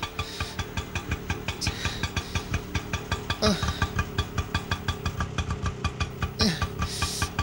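An auto rickshaw engine runs steadily nearby, a rhythmic mid-pitched putter with regular pulses throughout and a couple of brief higher squeaks, no talk over it.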